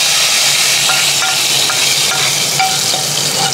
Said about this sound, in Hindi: उसके ऊपर तड़का लग रहा है जीरे का लाल मिर्च का और हरी मिर्च का